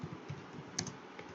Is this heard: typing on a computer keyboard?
yes